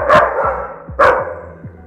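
An aggressive, fierce guard dog gives two loud, close barks about a second apart. Lower yips and whimpers trail between them.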